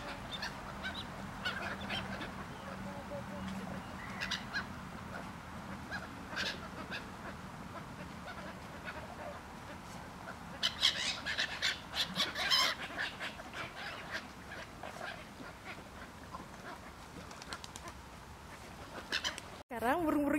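Geese and other birds crowd together at Holyrood lake as they are fed, with repeated honks and calls close by, outdoor wind noise and people talking faintly in the background.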